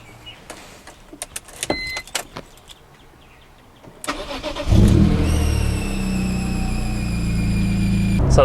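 A few clicks and soft handling noises, then an S54-swapped BMW E46 sedan's engine cranks and catches, settling into a loud, steady running rumble with a faint whine and exhaust drone.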